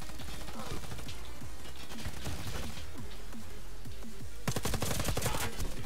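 Rapid automatic gunfire in the Warface first-person shooter game, repeated bursts of sharp shots throughout and a dense, louder volley near the end.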